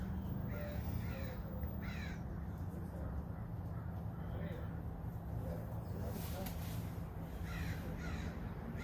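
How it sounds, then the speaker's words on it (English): Crows cawing outdoors in several short calls spread through the scene, moderately faint over a steady low hum, with a voice talking underneath. "Mama Crow."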